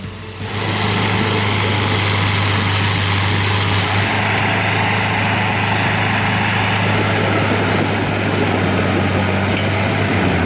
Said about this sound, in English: Ursus C-360, the pride of Poland, is a powerful tractor that belies its appearance.